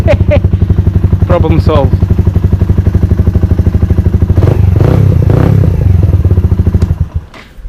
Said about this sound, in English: let's turn it off and let's start again just to check